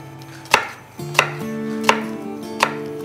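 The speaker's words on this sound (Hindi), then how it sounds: "प्याज बारीक बारीक कट लो" Knife chopping onion finely on a cutting board in a home kitchen, four sharp close chops spaced about half a second to a second apart over a low steady hum, no talking.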